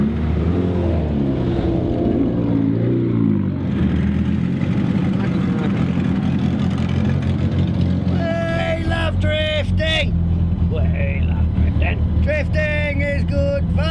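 Drift car on a track, its engine droning and revving steadily throughout, with squealing tyres breaking in during the second half as the car slides.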